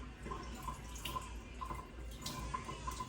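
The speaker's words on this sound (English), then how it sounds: "So the water flows from the least to the most contaminated part, rinsing off microorganisms" Tap water runs steadily into a sink while hands are rinsed during nursing hand washing, with a continuous soft splash and faint dripping, fairly quiet and without talk.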